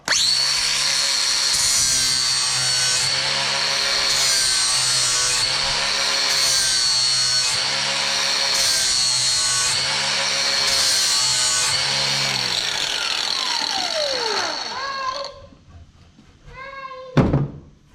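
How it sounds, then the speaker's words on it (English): An angle grinder sharpens a lawn mower blade in steady, loud passes: a sustained high whine with rhythmic surges as it moves along the edge, then the motor spins down near the end, followed by a brief clank. "we're going to fire it up, run the grinder around here, a couple passes, and this should be super sharp"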